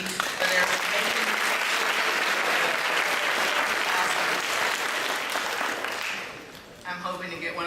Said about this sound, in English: let's give a round of applause to SDC for their making.